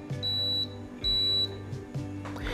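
A Breville Barista Express espresso machine beeps during a factory reset: two long, high-pitched electronic tones about a second apart, clear and close, with quieter mechanical clicks between and after them.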